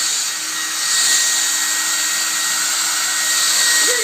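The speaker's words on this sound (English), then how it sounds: "You gotta get the blow dryer." A blow dryer runs continuously nearby, a loud, steady whooshing roar with a faint whine, alone and unbroken throughout.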